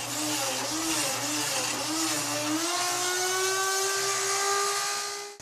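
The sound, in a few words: drilling mortise lock cavity with jig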